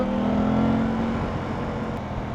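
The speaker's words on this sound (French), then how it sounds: "Là, je trouve qu'à 4000, ça vibre un peu." An Aprilia RS660 motorcycle engine holds around 4000 rpm on the road with a steady, droning hum and a faint buzzy vibration, accompanied by wind rush, no voice over it.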